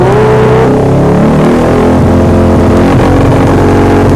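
Suzuki Satria FU 150 fuel-injected motorcycle fitted with an R9 GP aftermarket exhaust, revving loud and close with a raw, continuous roar that climbs and holds at high RPM throughout, no talk.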